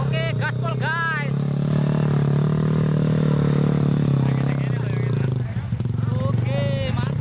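Honda Win motorcycle engine held at high throttle on a sandy trail, a loud, steady droning roar with voices talking over it near the start and end.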